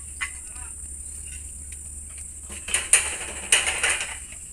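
Metal clutch parts of a power tiller gearbox clink and clatter as they are fitted by hand. A few faint taps come first, then sharper metallic knocks and scrapes close by, with a steady background hum and no talk.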